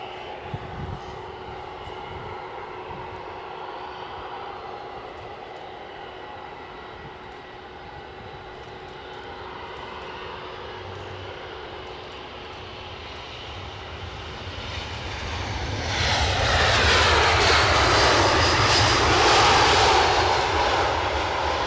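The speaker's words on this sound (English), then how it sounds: "Looks like we've got an EasyJet on finals." An EasyJet airliner on final approach to Edinburgh Airport, its engine roar building from a distant drone into a loud, broad rush over the last several seconds, with a steady background hum throughout.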